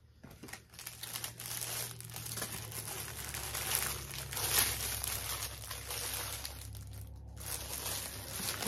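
Plastic packaging around a tote bag crinkles and rustles steadily and close up as it is opened. The crackling runs on without a break.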